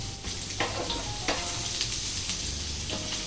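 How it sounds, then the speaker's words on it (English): Two sliced onions fry in a pan over low heat with a steady, dense sizzle, broken by a few short scraping stirs; close and continuous, with no talking. "to this I'm going to add these 2 sliced onions"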